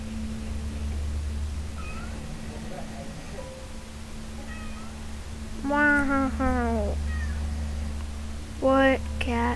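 A cat meows several times, drawn-out and clear, with a short pair of cries midway and another near the end, heard alongside low steady hum.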